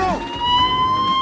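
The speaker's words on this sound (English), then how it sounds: "I was wondering if you could turn off that siren." Cartoon emergency vehicle siren, a loud close electronic wail holding a steady high tone through the short span, alone without speech.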